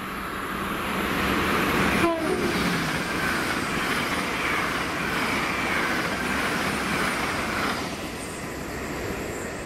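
A London North Eastern Railway passenger train, unit 800106, rumbles steadily past at close range through Carluke station for several seconds, a broad continuous roar with a brief horn-like tone near the start.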